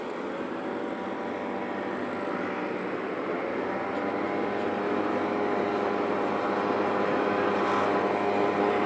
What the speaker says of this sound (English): I can still hear my engine. I can hear my RPMs.